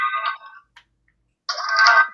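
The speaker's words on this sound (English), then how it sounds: "Boomer phone noises." A phone ringtone plays two short bursts of bright electronic melody separated by a brief silence, loud and clear, with no talking.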